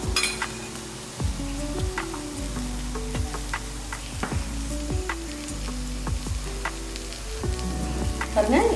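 Strained tamarind water is poured into a vegetable sambar cooking in a pot, giving a close, steady bubbling with repeated gurgling pops and sloshes throughout.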